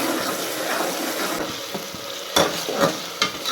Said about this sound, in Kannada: ಇವಾಗ ಇದು ಹಸಿ ಸ್ಮೆಲ್ ಹೋಗೋ ತನಕ ಚೆನ್ನಾಗಿ ಫ್ರೈ ಮಾಡ್ಕೊಳ್ಬೇಕು